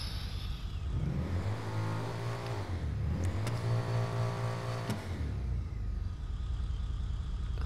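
A car engine in GTA V revs through a new exhaust, swelling twice into loud throaty roars before settling back to a steady idle hum.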